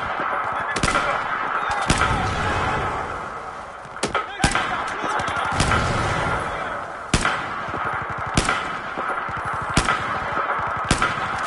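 Video game gunfire as a player shoots at an enemy: a series of sharp, loud shot bursts at irregular intervals, mixed with game sound effects and a voice talking.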